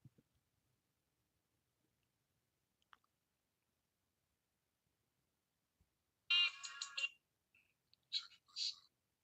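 A phone ringtone sounds in two short bursts of bright electronic trills, close and clear, after a near-silent stretch with only faint clicks and no talk.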